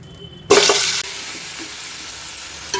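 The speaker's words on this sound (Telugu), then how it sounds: "ఇంక ఇప్పుడు ఇందులోకి చికెన్ వేస్తున్నాను" A sudden loud sizzle bursts out as chicken hits hot oil in a biryani pot, flaring briefly before settling into a quieter, steady frying hiss.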